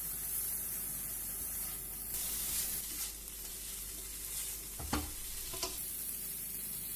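A potato and broccoli mixture sizzles softly in a pan as it cooks, a steady faint hiss with a couple of brief clinks and scrapes partway through.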